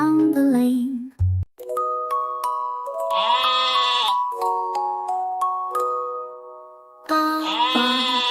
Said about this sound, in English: Baa Baa Black Sheep, have you any wool?